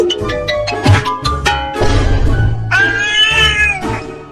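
A cat meows and yowls loudly several times in drawn-out, wailing cries over a rhythmic musical backing.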